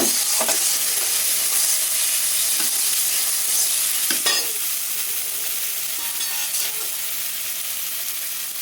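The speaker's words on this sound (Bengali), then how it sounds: "আদা রসুন একত্রে বাটা, এটা একটা নাড়া দিয়ে নিলাম।" Ginger-garlic paste fries in a pan while a spoon stirs it, giving a steady sizzle and hiss with a few sharp scrapes and clinks of the utensil against the pan.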